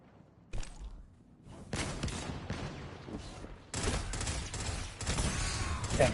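Bursts of gunfire in a Destiny 2 Crucible match, with loud repeated volleys broken by short pauses and a few thumps.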